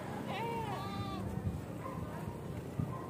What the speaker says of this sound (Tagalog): Ang cute naman mga kambing.